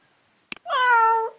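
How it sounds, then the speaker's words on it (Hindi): A cat meow is played back from a Google search animal-sounds result, preceded by a brief click and then one clear drawn-out meow in otherwise quiet surroundings. "Cat noises."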